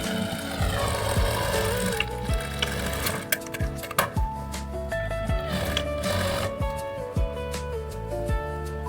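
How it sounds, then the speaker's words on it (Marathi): A sewing machine stitches a blouse seam in a steady whirring, chattering run with brief pauses and restarts, close and fairly loud over a faint background hum, no voices. "आता सरळ आपण अशी शिलाई मारून घेऊया."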